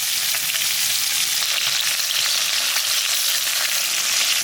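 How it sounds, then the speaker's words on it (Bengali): Roe-filled fish sizzle steadily in hot oil, a dense, even crackle close by and unbroken throughout, with no voices. "মাছটা হালকা করে ভেজে নিয়েছি"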